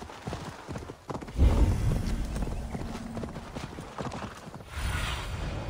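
A summoned horse mount in Assassin's Creed Valhalla gallops, rapid rhythmic hoofbeats arriving near and loud after a brief whinny, with game ambience underneath and no speech.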